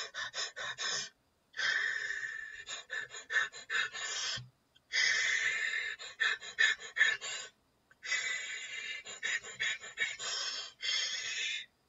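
A person imitates irregular Cheyne-Stokes breathing: bursts of short, rapid gasping breaths broken by silent apnea pauses, four clusters close to the mic with no speech.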